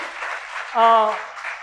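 Audience applause at a National Women's Day poetry gathering on a college campus, a brief burst of clapping from a seated crowd, swelling and fading over under two seconds, with a voice rising through the middle.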